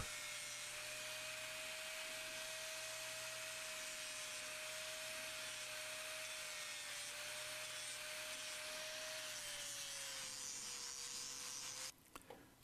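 A power sander works steadily against a log, taking it down toward the scribe line, with a continuous close whirring grind and a steady tonal whine that stops abruptly near the end.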